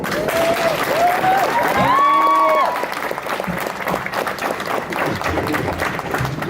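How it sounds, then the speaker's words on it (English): Wedding guests applaud at a party speech, a steady crowd clapping heard alongside a voice and cheering, continuous and fairly loud throughout. "So everyone give this man a round of applause"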